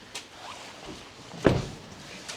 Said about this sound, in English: You might as well close the door